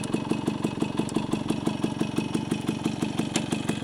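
A Suzuki F50 Cutlass motorcycle engine idles steadily nearby, its even, rapid putter of exhaust pulses holding a constant rhythm throughout with no revving.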